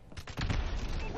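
Gunfire in the video game Call of Duty: Advanced Warfare, a quick burst of several rapid shots merging into a dense, loud crackle in just over a second.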